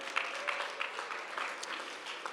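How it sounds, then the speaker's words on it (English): A culinary competition audience claps steadily for a hospital team, producing a continuous, fairly faint wash of applause with no one talking over it. "Give them a round of applause, please."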